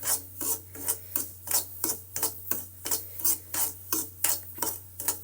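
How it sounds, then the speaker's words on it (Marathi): Semolina (rava) is roasted dry in a pan and stirred in a steady rhythm, about a dozen repeated scraping, rasping strokes, close and clear with a faint hum underneath. "पन्नास पंच्याहत्तर टक्के आपला रवा भाजलेला आहे"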